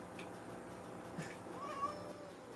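A pet cat meows a few times, faint and somewhat distant, over a steady hum of background noise.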